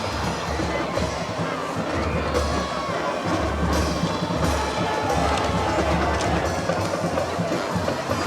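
Crowd noise from the stands at a 1986 high school football game between East Brunswick and Edison, a steady loud roar of cheering and chatter lasting throughout with occasional thumps.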